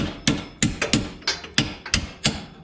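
A series of sharp hammer taps on Lexus suspension parts in a loose, uneven rhythm, some single and some doubled, close and clear with no talking.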